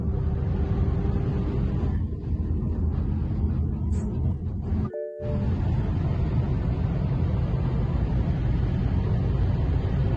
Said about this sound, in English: Driving in the fast lane.